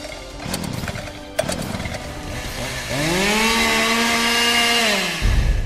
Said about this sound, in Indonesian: Ayo, nyalakan gergajimu.